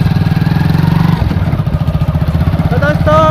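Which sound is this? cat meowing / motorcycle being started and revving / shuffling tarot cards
motorcycle being started and revving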